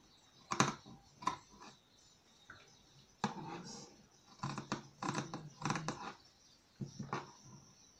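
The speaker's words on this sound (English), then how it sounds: "I'll go ahead and cut out this part I've traced out." Scissors snipping through traced fabric for a one-shoulder top, a series of close, crisp cuts in short irregular bursts with brief pauses between.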